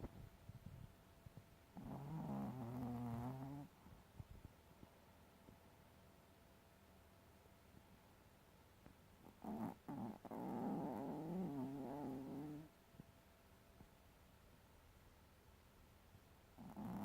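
A teacup Maltese dog snores in two slow, rumbling breaths a few seconds apart, soft and nearby against quiet background hiss.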